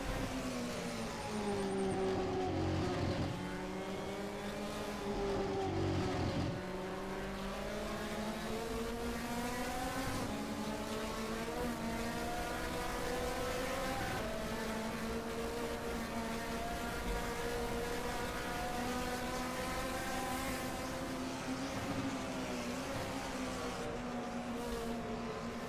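Volvo touring race car engines in a racing video game, a steady droning whine of several engines that holds and slowly shifts in pitch, faint and continuous with no talk.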